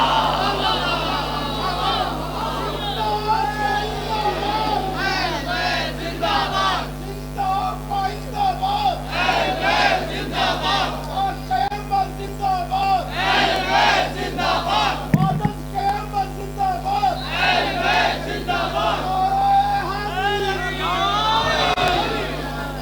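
A large gathering at a Shia majlis in U Block marking Imam Hussain's arrival answers religious slogans with loud collective chants, a dense roaring crowd sustained throughout over a steady low hum.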